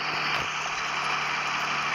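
A John Deere tractor engine idles steadily in Farming Simulator 23, a constant mid-range drone with a faint high whine on top, even in level throughout with no talk.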